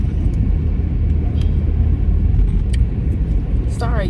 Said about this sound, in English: I'm in the car, so it's the road.